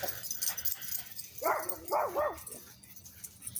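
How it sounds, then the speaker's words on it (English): A dog gives a few short, high barks or yips in quick succession, moderately distant, over a quiet background. "They're barking about something."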